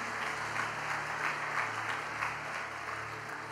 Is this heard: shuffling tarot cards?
no